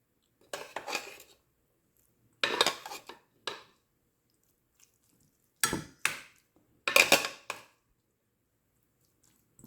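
Sliced onions stirred into ukoy batter in a bowl, with close, clattering bursts of utensil against bowl in several separate rounds and quiet pauses between them, no voices.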